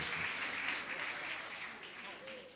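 A congregation applauding to acclaim the Lord at a prophetic healing service, a steady wash of crowd clapping and cheering with voices mixed in, fairly faint and continuous throughout.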